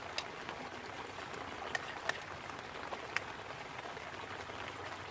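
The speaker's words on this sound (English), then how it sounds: "Especially when I listen to the rain come down under here." Rain patters steadily on a tarp shelter beside a babbling brook, a soft continuous hiss broken by a few sharper drips, fairly quiet and close, with no talking.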